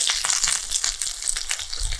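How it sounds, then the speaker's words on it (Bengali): Pointed gourd (potol) slices frying in hot oil, fried without salt or turmeric, give a loud, close, continuous crackling sizzle with no one talking. "আর পটল ভাজাগুলো দেখুন বন্ধুরা, কত সুন্দর করে ভাজা হচ্ছে।"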